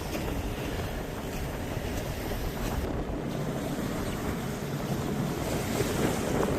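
A sailboat underway off Bonnet Island heads toward Pilot Bay, with steady wind buffeting and rushing waves forming a loud, constant wash of noise with no voices.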